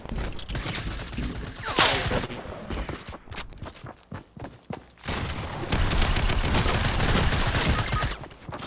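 Video game gunfire with sniper shots, dense bursts of shots and clattering fire, loud and close, with brief quieter gaps between volleys.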